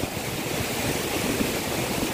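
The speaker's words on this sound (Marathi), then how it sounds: "हे जे धबधब्याचे पाणी ना, जो काय फ्लो आहे धबधब्या पाण्याचा तुम्ही बघू शकता इकडे" Water pours steadily at a waterfall in Sindhudurg, a dense even roar of falling water that stays constant and loud, with no voices heard.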